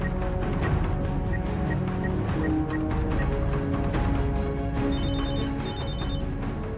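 A telephone rings loudly and steadily in a home setting, a repeating electronic ring pattern running continuously with no talk over it.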